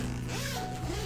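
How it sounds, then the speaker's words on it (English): Zipper running along a zip-up trading card binder, a steady scraping glide lasting about a second, close and fairly quiet with a faint hum beneath. "And it is a zip binder as well."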